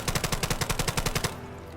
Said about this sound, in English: This is the Scorpion. It's a gun.